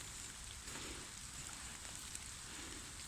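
Steady rain falls during an evening thunderstorm, a constant even hiss of drops on surfaces with no thunder standing out, quiet and distant.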